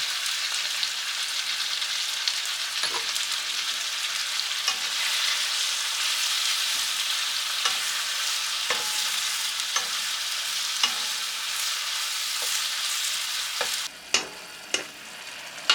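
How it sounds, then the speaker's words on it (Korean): Squid pieces stir-fried with minced garlic and oligosaccharide syrup in a pan for spicy Korean stir-fried squid, giving a steady hiss of frying with sharp scraping clicks of a spatula near the end, no talking. "깨끗이 손질한 오징어 3마리를 넣고 다진 마늘 1큰술, 올리고당 1큰술을 넣고 살짝 볶아줍니다"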